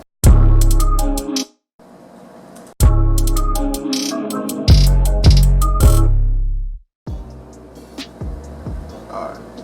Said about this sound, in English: So it'll sound like this with the 808.